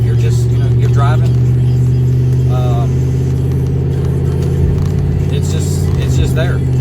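A truck's 5.7 HEMI engine with an aftermarket cam idles with a deep, steady exhaust rumble close by, while a person talks over it.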